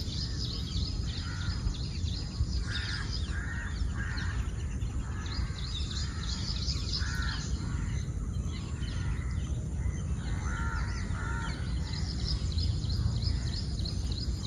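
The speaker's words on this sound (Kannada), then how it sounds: "ಹಕ್ಕಿ ಸೌಂಡ್ ಅದೆಲ್ಲ ಕರೆಕ್ಟ್ ಕೇಳಿ." Crows caw repeatedly at a moderate distance in the morning, with other birds calling faintly over a steady outdoor hiss; no one speaks.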